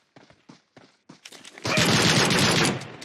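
Pistol gunfire in a sniper shooter video game: five or six sharp, separate shots in quick succession, then a dense, louder sustained burst of firing that fades at the end.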